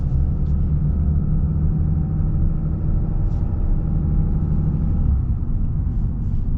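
A 2023 Ram HD pickup with the 6.7L Cummins diesel drones steadily at close range, a deep, even low rumble with no revving and no talk over it. An exhaust brake is fitted.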